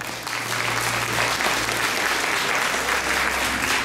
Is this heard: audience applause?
yes